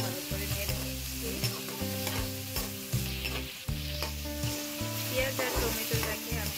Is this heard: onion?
yes